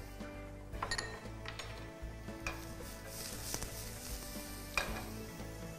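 Garlic frying in olive oil in a Tefal pan, a low steady sizzle with occasional sharp clinks and scraping of a utensil against the pan, fairly quiet and close, no talking.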